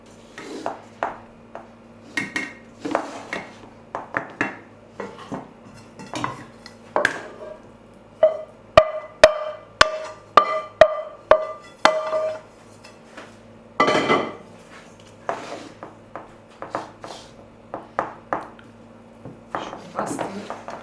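Cooked pilaf rice in a pot is handled and turned over onto a plate, giving a series of metallic clinks and sharp knocks, with a quick rhythmic run of taps midway and talk between them.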